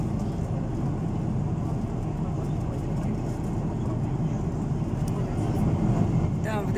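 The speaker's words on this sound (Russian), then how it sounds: "У нас самолет подлетает к Сочи" Constant low, dense rumble of an airplane cabin in flight approaching Sochi, a steady engine drone filling the background throughout.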